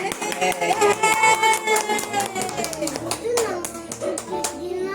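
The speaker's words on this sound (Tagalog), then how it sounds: "Palakpak ko naman natin." A group claps their hands in quick, steady rhythm at a birthday celebration while children and adults chatter and sing loudly over it.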